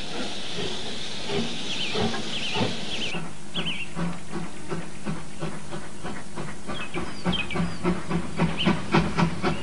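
A steam train chugs along with hissing steam and rhythmic clanking wheels, the puffs growing louder and more regular toward the end.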